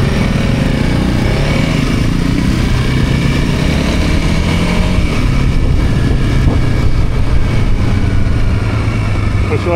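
A KTM 500 motorcycle engine roars continuously during a ride, loud and close, with a steady drone, shifting tones as the revs change, and a rough rumble under wind noise.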